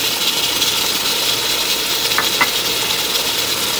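Chicken frying in a pan over medium-low flame after tomatoes go in, a loud, dense, continuous sizzle with a couple of brief metallic clinks near the end.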